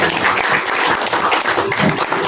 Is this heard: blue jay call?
no